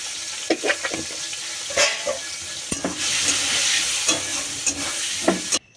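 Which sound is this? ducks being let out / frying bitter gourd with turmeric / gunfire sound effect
frying bitter gourd with turmeric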